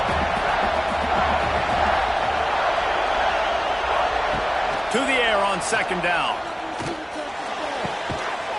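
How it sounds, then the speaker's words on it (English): A football stadium crowd roars loudly and continuously, a dense wall of noise under a play-by-play announcer's commentary, easing slightly near the end. "Listen to this crowd just shaking the girders of this place, trying to help their defense."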